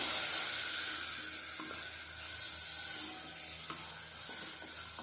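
Butter beans sautéing in hot oil in a pan: a steady, close hiss and sizzle with soft crackling, holding evenly throughout without talk.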